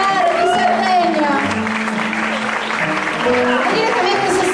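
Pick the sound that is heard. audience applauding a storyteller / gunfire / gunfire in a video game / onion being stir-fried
audience applauding a storyteller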